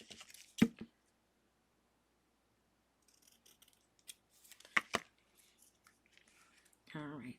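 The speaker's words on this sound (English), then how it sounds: "I'm going to cut another one of these in half" Scissors make a few crisp snips through a paper card piece, cutting it in half in a quiet room, with faint rustling between the cuts.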